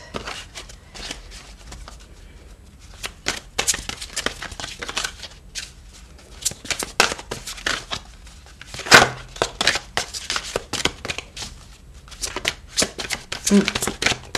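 A deck of cards is shuffled for a card reading: repeated riffling, flicking and slapping of cards in quick bursts, close by, with a voice talking intermittently.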